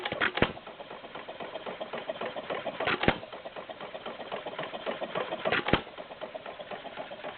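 Stover CT-2 hit and miss engine running, a steady mechanical chugging with three sharp firing bangs spaced a few seconds apart, moderately close, with no speech.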